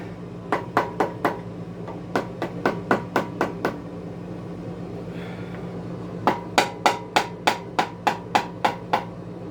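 A rapid series of light, sharp metallic hammer taps on an L98 engine's cylinder head in two bursts, evenly spaced, with a steady low hum running underneath.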